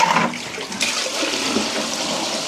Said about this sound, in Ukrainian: і виливаємо цю воду.